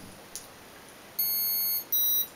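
Electronic confirmation tones from the ESC of an MJX F645 helicopter during programming: two short steady beeps in quick succession over a quiet background, clear and close.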